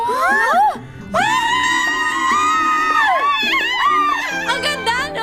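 Several people shout and shriek excitedly together, loud and close, with overlapping high-pitched voices rising and falling in bursts.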